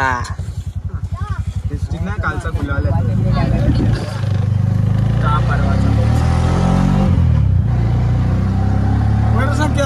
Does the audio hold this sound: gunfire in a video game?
no